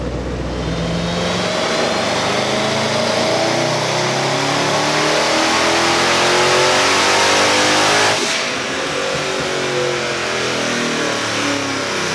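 Twin-turbo Camaro daily driver running on E fuel without methanol injection, revving hard on a dyno, a loud sustained engine roar climbing for about eight seconds, then easing off briefly before pulling again.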